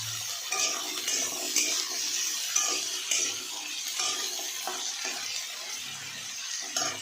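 Elephant foot yam is added to already fried shrimp in a pan, producing a soft crackling sizzle with scraping stirs and occasional light clinks, moderately quiet and without speech.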